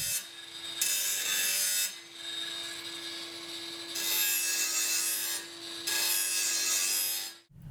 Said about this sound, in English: Grind off the burrs and rough edges with an angle grinder.